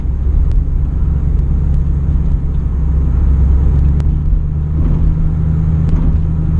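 A second-generation Pontiac Firebird Formula is being driven, and its engine gives a steady, loud, low exhaust burble from inside the cabin, with faint rattles above it. No one speaks.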